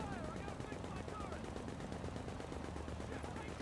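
Rapid automatic gunfire rattles in a continuous, evenly spaced stream during a team video game match, fairly faint and distant, with a constant mechanical rhythm and no clear speech.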